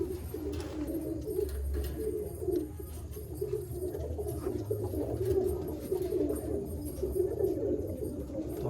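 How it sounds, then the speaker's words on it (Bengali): Malwai pigeon cooing steadily in a low, continuous murmur at Baruipur, soft and moderately close, with a faint background hum throughout and no talking. "অসাধারণ লেভেলের পায়রা একটা"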